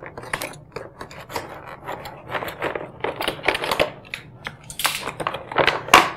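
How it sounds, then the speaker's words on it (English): A giant Avengers surprise egg is unwrapped, giving close, irregular crinkling and rustling with sharp crackly bursts that grow louder toward the end. No one speaks. "Lots of unwrapping to be done here, it seems."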